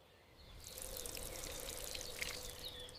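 Water pours and trickles steadily onto vegetable plants in a garden, starting softly and then flowing louder and continuously, with faint birds in the background.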